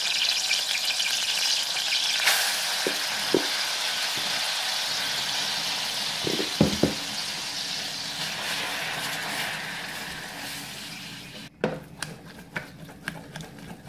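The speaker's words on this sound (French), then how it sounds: "Je vais commencer par mettre le beurre à fondre. Je vais ajouter à ça la farine." Butter melting with flour in a pan gives off a steady frying sizzle, with a few soft stirring knocks and scrapes through the middle and sharper clinks near the end. No one speaks.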